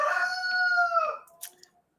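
A rooster crows once, a loud, drawn-out cock-a-doodle-doo with sustained harmonic tones that fade after about a second, followed by brief faint clatter.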